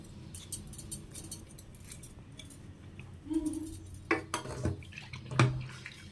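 Leafy greens (shak) being rinsed in a bowl of water, soft splashes and drips with a few sharper clinks and sloshes toward the end, close and fairly quiet.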